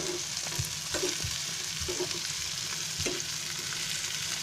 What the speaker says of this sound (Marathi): हे पूर्ण आता मसाला कसा हे चांगला भाजून घ्यायचा आहे